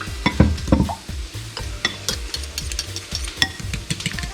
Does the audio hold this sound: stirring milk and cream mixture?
yes